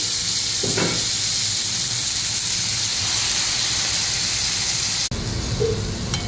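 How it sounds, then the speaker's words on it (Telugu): Washed moringa leaves dropped into hot oil send up a loud, continuous steamy hiss that holds steady, then cuts off abruptly near the end before a lower, quieter sizzle resumes; no one speaks. "మునగాకు 2 సార్లు నీళ్ళలో కడుక్కొని ఇప్పుడు నూనెలో ఇది వేసుకోవాలి"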